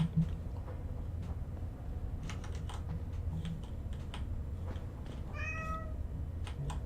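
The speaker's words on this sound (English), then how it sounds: "excuse me, kitty cat." A cat in a Deus Ex: Human Revolution game scene gives a single short meow near the end, heard faintly over steady low background noise and keyboard-like tapping.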